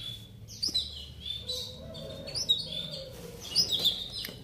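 A third-generation (F3) paud bird, kept as a pet, chirps in bursts of short, bright calls. The calls are quiet and fairly close over a low background hum, and no one talks.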